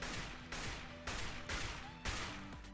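Gunfire in CS:GO comes as four sustained bursts of rapid shots, loud and close, separated by brief gaps, with no voice over them.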